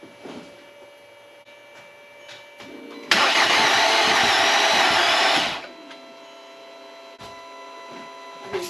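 A VW Passat with a broken timing chain cranks over loudly for about two and a half seconds with an even, fast whir and no sign of catching, then falls back to a quiet hum.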